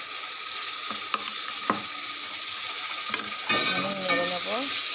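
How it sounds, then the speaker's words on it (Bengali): Potatoes and peas fried with spices in a pan, a steady close sizzle with intermittent scraping stirs and a few clinks of the spoon, no talking. "একটু ভেজে নিলাম, ভাজলে একটু বেশি ভালো লাগবে।"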